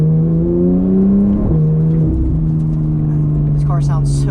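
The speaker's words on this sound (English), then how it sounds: "This car sounds so good." A 2015 Porsche 911 GT3 in PDK Sport mode with exhaust valves open accelerates hard, its engine and exhaust a loud, steady, close drone that dips briefly mid-run as if shifting gear, then pulls on.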